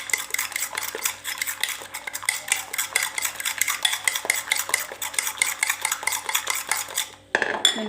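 Steady rapid stirring of an egg and meat mixture for cauliflower fritters, a utensil clicking and scraping against a bowl in a fast even rhythm, close and clear with no talking, ending in a louder clatter.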